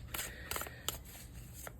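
A deck of tarot cards is shuffled nearby, with a few quick, crisp riffling snaps and soft card slides, fairly faint and without speech.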